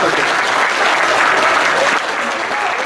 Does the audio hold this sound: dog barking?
no